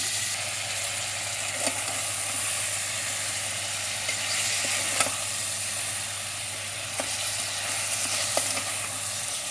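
Half a kilo of mutton fries in a pan with a steady, moderate sizzle, broken by a few faint clicks and scrapes of stirring.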